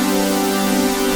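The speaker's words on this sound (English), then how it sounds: "So I have a sound here from my upcoming Serum sound bank." A sustained synth chord from a Serum sound bank, bright and buzzy with a steady, unchanging tone, held loud and alone for about a second before stopping.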